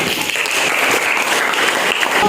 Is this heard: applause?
yes